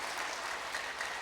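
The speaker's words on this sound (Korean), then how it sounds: "우리 꿈마루를 위해서 우리 박수 한번 하겠습니다" A church congregation at a Christmas service claps together in a dense, steady burst of applause, brief and fairly faint, with no voice above it.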